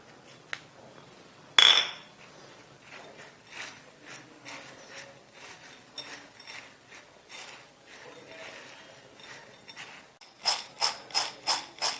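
Dry chana daal namkeen snack tossed and stirred in a bowl, giving soft scattered rattling and scraping with a sharp clack near the start and a quick run of louder rhythmic stirs near the end.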